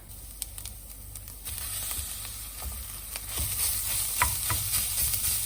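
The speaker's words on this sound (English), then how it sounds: "We'll let that cook for a couple of minutes and then we're going to brown off the meat" Steady sizzling of food frying in a pan, with occasional scrapes and clinks of stirring, growing slightly louder partway through.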